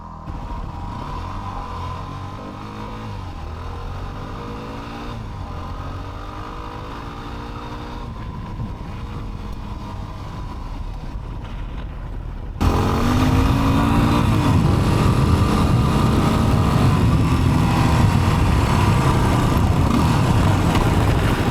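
A Yamaha WR250R motorcycle engine drones steadily as it climbs a steep trail in first gear, with a continuous close-up engine note that grows noticeably louder and rougher partway through, accompanied by wind noise and no speech.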